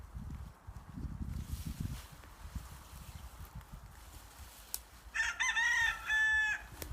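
A rooster crows once, loud and fairly close, in a long harmonic call over steady farmyard noise with low rumbling and thumps at a Norwegian potato-harvest homestead; no one speaks.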